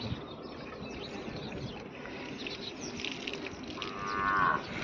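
Buffalo in a farm pen in the morning give a deep, drawn-out moo that swells louder toward the end, close by, over a rumbling background with faint bird sounds.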